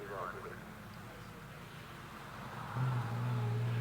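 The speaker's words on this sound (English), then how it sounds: "And he's followed by this amazing Type 45 Frazer Nash BMW 319" A Type 45 Frazer Nash BMW 319 climbing the Prescott hill at a vintage sports-car meeting, its engine a steady low drone that swells louder toward the end, with a commentator talking over it.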